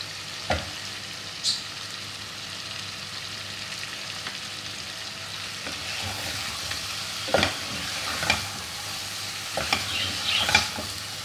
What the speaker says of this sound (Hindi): मसाले हमारे भून गए हैं, बहुत अच्छी खुशबू आ रही है मसालों की।